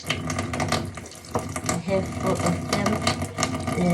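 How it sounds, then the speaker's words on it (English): Spring onions rinsed under a running cold-water tap in a kitchen sink, giving a steady broadband splash with irregular bursts as the stalks are handled, fairly close and continuous throughout. "Just wash them under cold water, under running water."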